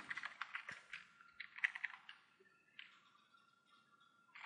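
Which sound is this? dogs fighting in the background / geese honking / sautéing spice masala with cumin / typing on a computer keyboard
typing on a computer keyboard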